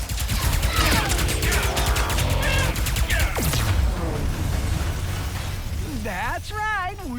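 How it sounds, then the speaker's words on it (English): Gunfire and explosions from the Ratchet & Clank video game, with a dense burst of rapid shots and blasts up front that settles into a rumbling background, with game voices and effects throughout. "I need to worry about everyone shooting at us first."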